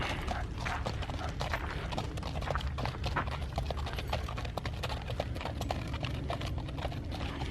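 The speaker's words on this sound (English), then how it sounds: "And here come the horses again." Hooves clip-clopping steadily on hard ground, a continuous rhythmic clatter of several horses passing nearby, no voices.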